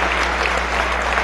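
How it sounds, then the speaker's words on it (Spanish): Members of a national constituent assembly in session applaud a fellow delegate, a brief burst of steady, dense clapping from a large hall with a low hum beneath. "Un aplauso para Macrina"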